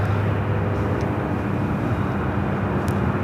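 An airliner takes off from LAX runway 24 left, its engines a loud, steady broadband roar that fills the whole stretch without letup.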